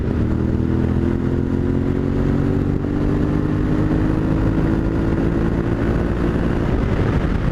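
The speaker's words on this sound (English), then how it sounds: "if I go ahead and drop the gear and open the throttle" A Yamaha Tenere 700 motorcycle downshifts and accelerates with the throttle opened, its engine note climbing steadily and loud and close throughout, with no talking.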